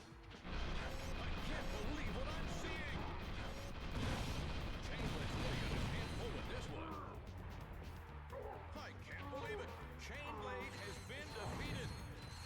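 A cluster of turrets fires in a PS2 action game, producing dense, continuous mechanical blasts and crashing impacts that stay loud throughout, with someone talking over the din.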